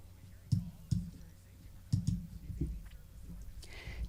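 A handful of distinct computer mouse clicks and light keystrokes sound close by while logging into a court e-filing portal, spaced irregularly with short pauses between them.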